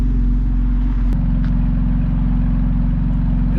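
A 2020 BMW X3M Competition idles with a deep, constant engine and exhaust grumble heard up close, loud and even, with one brief click partway through.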